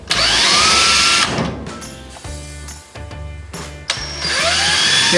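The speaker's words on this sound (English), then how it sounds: "I'm just going to go ahead and pre-drill all our holes." A power drill whines loudly in bursts, pre-drilling holes while installing an OdorStop OS72 UV air treatment system, pausing briefly between runs, with a few clunks of handling in between.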